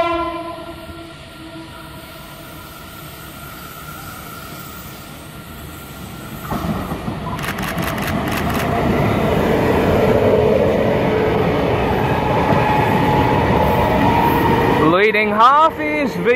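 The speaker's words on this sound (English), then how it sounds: "this is an express 8-car V-set to Sydney" An express eight-car electric V-set passenger train approaches and rumbles past Wondabyne, New South Wales, loudly, with rhythmic clacking over rail joints and squealing wheels toward the end.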